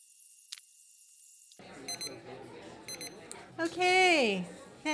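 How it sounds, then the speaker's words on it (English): A timer alarm rings in a room during a presentation, giving short repeated bursts of beeps over a murmur of people chatting, followed by a louder voice. "I've got the timer going."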